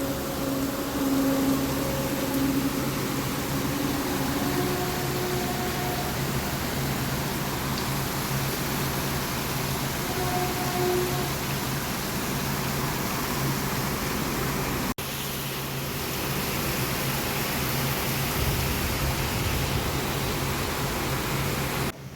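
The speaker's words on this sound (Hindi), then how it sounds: "आज हमारे यहाँ जम के बारिश हो रही है" Heavy rain pours down steadily outside a home, filling a lane with water, making a dense, unbroken hiss that stays loud and even throughout with no voices.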